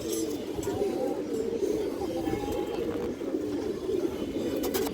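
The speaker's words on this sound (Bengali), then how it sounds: "দর্শক এই যে নোটটা দেখেন খুব সুন্দর কবুতর মাশাআল্লাহ।" Pigeons cooing in a farm loft, a continuous low throaty murmur from several birds, with a voice talking over it at times.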